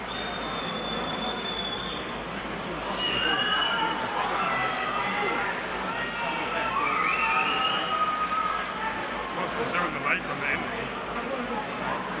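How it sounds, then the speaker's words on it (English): A crowd keeps cheering and murmuring after a fight ends in a combat event, a steady noisy roar under a commentator's continuous talk. "You can hear by the crowd still cheering"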